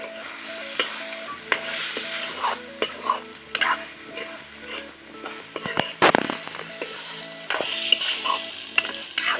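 Potatoes go into a simmering chicken curry in a pan, sizzling while a spoon scrapes and stirs in irregular strokes close by.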